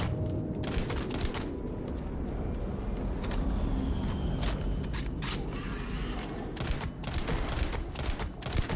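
Bursts of gunfire in the sci-fi video game Starfield crackle in uneven clusters throughout, fairly close and sharp over a dense, rumbling ambient background.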